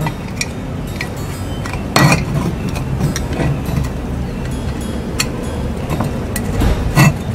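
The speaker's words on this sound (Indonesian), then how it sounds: "Diamkan sejenak, lalu bisa menggunakan obeng ya, kita coba puter." A screwdriver turning a screw loosened with WD-40 spray, giving soft metallic clinks and scraping ticks over a steady low background, with a couple of louder knocks near the start and the end.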